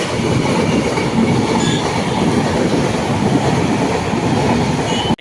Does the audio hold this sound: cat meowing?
no